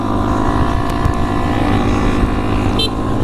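A Honda Grom motorcycle engine drones steadily while riding in fourth gear, with a continuous buzzing hum and wind rush.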